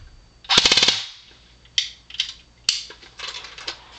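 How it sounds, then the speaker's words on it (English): A Classic Army M15A4 airsoft rifle with a 2009 motor fires on full auto, starting with a loud, rapid rattling burst of about half a second, then several shorter clattering bursts, all close and with no talking. "So here's the rate of fire at full auto."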